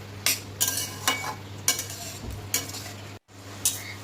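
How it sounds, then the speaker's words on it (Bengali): Boiled tadka dal stirred into spice masala in a pan over low to medium heat, a spoon scraping in repeated strokes over a steady low hum and light sizzle, with one brief dropout near the end. "এবার আমি ভালোভাবে একটু কষিয়ে নেব লো টু মিডিয়াম আছে"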